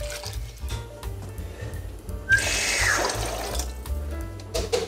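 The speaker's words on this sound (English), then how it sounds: "With the packet of rice, we are going to be adding 6 cups of water." Water pours in a steady splashing rush into a Dutch oven holding a packet of rice for jambalaya, running for about a second and a half midway, over quiet background music.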